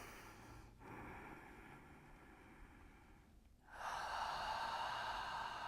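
Deep, slow breathing during standing yoga stretches for office workers: a soft, close inhale, a brief pause, then a fuller, louder exhale that swells and holds steady to the end.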